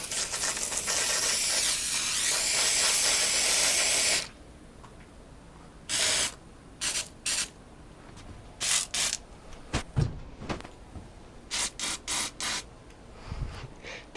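An aerosol spray can hisses in one long continuous burst, then sputters out in a series of short, irregular spurts as it runs empty, with quiet gaps between them.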